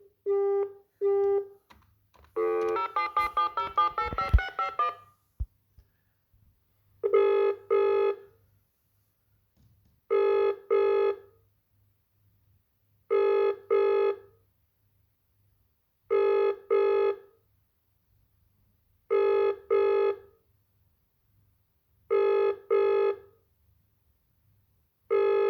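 A telephone plays a short tone sequence and a brief buzzy burst on an outgoing call. Then a ringback tone repeats as evenly spaced double rings, about every three seconds. The rings are clear and steady, with no voices.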